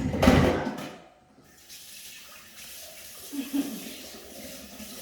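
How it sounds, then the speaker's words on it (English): A strainer is rinsed under a running tap: a loud gush of water at the start quickly fades, followed by quieter trickling and a faint voice. "So, you see, I just wash it off just to get everything off the strainer."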